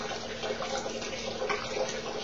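Water flows out of a tank in a discharge experiment, a steady, moderately quiet pouring splash that continues evenly throughout with no talk.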